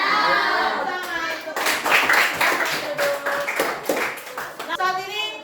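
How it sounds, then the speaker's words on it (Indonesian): Hands clapping together in a classroom, a burst of rapid, fairly close claps from children that runs through most of the moment, with voices and chatter mixed in underneath. "Tepuk tangan."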